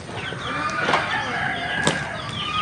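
Rhode Island chickens in a backyard flock give faint clucks and short calls over a steady outdoor background, with a couple of brief sharp accents.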